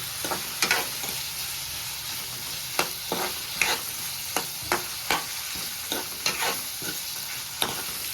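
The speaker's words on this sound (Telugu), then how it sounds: "ఆ కట్ చేసి పెట్టుకున్న మామిడికాయ ముక్కలు కూడా వేసేసి కలిపేసుకుందాం" Raw green mango pieces are stirred into tomatoes frying in a pan for a chutney, with a steady sizzle beneath a series of sharp spoon scrapes and clicks at an irregular rhythm.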